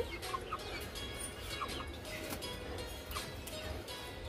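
Chickens cluck quietly in short scattered calls while being fed, a few birds near the microphone over a low background hum.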